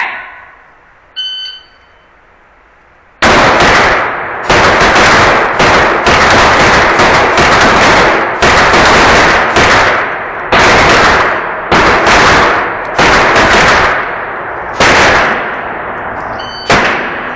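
Loud Glock pistol shots at an indoor shooting match, a rapid string of sharp, close reports with short gaps between them after a quiet start with a faint beep.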